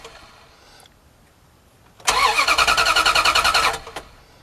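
A 2000 Dodge Ram 1500 van cranks for under two seconds without catching, a loud rapid starter whir with evenly pulsing beats, then stops, leaving quiet background.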